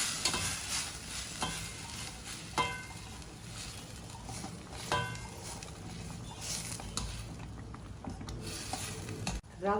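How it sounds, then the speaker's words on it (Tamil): Semolina (rava) being stirred into boiling milk and water for upma, with a steady bubbling hiss and repeated scraping spoon strokes in the pot, close and continuous with no talking. "ஒரே இடத்துல சேர்க்காதீங்க, அப்படி தனித்தள்ளி சேர்த்துட்டு உடனே கிண்ட ஆரம்பிச்சுங்க."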